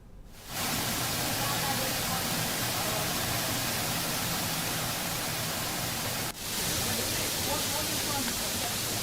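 Bugga waterfall at Wankidi roars as a dense, constant wash of falling water, loud and close, with a brief dip partway through.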